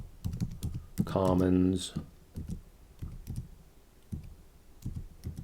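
Quick keyboard typing clicks in bursts on a computer keyboard while a person talks over it, with a short tonal sound in the middle.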